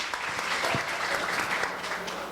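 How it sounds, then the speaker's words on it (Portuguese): Strong audience applause fills the room at an impact-business and social-technology event, a dense steady clapping that holds loud and continuous for a couple of seconds with a faint voice or two underneath. "Uma salva de palma bem forte aí para o Vinícius"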